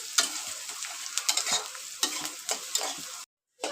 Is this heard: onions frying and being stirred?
yes